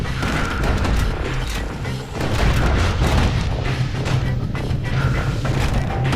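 Heavy gunfire from a security skiff's mounted guns in the video game Bastion, a dense continuous barrage of booming shots and thuds that stays loud and steady throughout with a brief dip midway.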